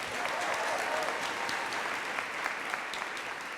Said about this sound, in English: A round of applause for Katuna